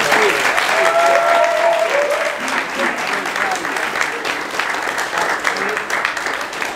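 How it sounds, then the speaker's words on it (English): Cadets in the Corps of Cadets applaud at a ghost pepper challenge event, a loud, sustained round of crowd clapping with cheering voices and a few whoops mixed in, gradually easing off over several seconds. "just a round of applause for General Ramirez for coming out and doing"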